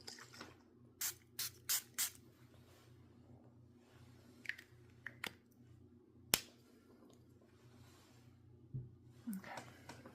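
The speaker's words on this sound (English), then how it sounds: "I'm going to also spray my hands." Several short hissing spray bursts from a pump bottle, scattered at irregular intervals, close up against a quiet low hum.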